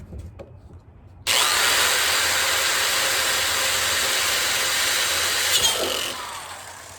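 A corded jigsaw cuts a hole in a 55-gallon barrel, starting abruptly after a quiet moment and then running as a loud, steady, close buzzing whine for several seconds before tapering off.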